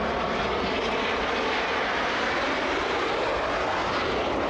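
Boeing 787 Dreamliner jet at Brussels Zaventem airport, a steady, loud broadband engine roar filling the whole stretch without a break.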